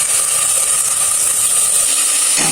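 Spiced paste of onion, garlic, green and dried chilli, and cumin hits hot cooking oil in a pressure cooker, giving a steady, loud, close sizzling hiss that holds evenly throughout before easing slightly at the end.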